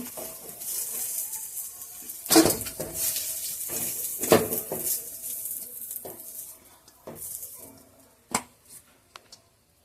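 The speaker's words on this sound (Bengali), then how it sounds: "উচ্ছেগুলো আমার ভাজা হয়ে গেছে উচ্ছেগুলো তুলে নেব" Bitter gourd fries in oil, hissing and sizzling in a pan, with scraping stirs and sharp metallic clinks of a utensil against the pot.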